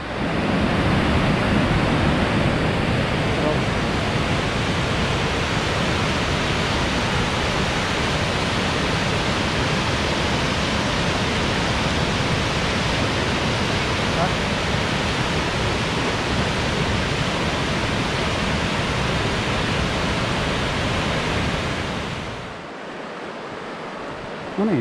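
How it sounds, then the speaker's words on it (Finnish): River rapids roaring on a trail in Finland's Pieni Karhunkierros: a loud, steady wash of rushing water, unbroken and alone for over twenty seconds before it cuts off abruptly near the end. "koski näkyy pauhaavan"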